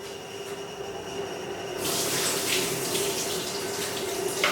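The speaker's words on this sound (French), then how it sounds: "Je vide mon eau" Water pouring and splashing as a pot of fries is emptied out, a steady rushing stream that grows louder and brighter midway, with constant background hum and no talking.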